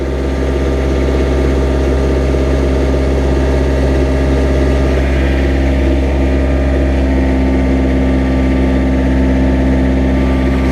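A Hayter LT324 triple gang mower engine idles steadily and loudly after a cold start, a constant low rumble with a faint rattly edge, close to the listener.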